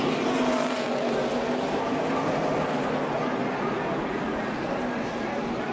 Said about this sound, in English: Big crash. Oh, he's all tied down. Over and over, Logano goes between 3 and 4